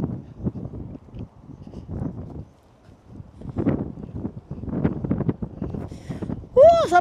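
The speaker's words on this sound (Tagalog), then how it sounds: "Sarap ng hangin." Low, gusty wind rumbles and buffets the microphone in uneven surges beside the Arakawa River, with a brief voice near the end.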